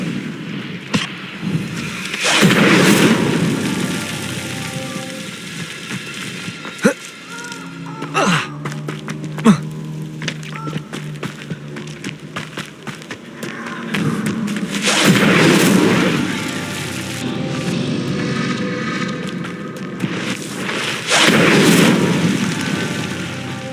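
Incendio fire spell cast in the Hogwarts Legacy game: several loud whooshing fiery bursts with deep booms, separated by quieter stretches of scattered impacts and echoing rumble.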